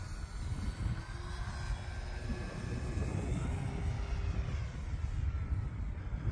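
A small propeller engine on an E-flite T-28 1.2m radio-controlled model airplane drones steadily overhead, its pitch shifting slightly as it banks, with wind noise and no voices.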